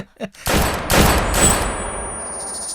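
A drama sound effect of gunfire: a short burst of loud, close shots in rapid succession, ringing out briefly after a faint voice at the start.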